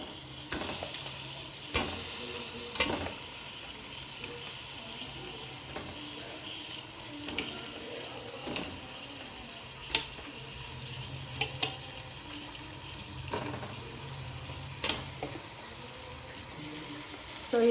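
Fish pieces for chepala pulusu are turned through masala in a pan, with okra also added. A continuous low sizzle runs underneath, broken by repeated scraping and clanking stir strokes at irregular intervals.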